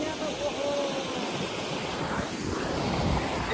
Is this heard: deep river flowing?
yes